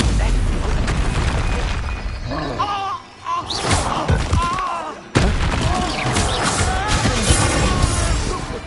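Spell explosions and crashes sound in the Hogwarts Legacy video game, a dense run of loud booms, smashes and thuds with a brief lull midway, while a voice talks over the action.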